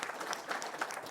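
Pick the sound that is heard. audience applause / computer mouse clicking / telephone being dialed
audience applause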